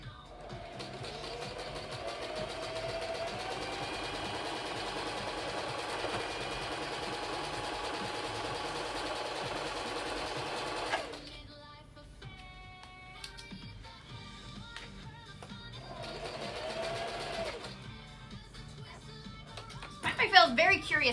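A sewing machine stitches steadily for about ten seconds, stops, then runs in shorter bursts, close and fairly loud, with a person talking around the pauses.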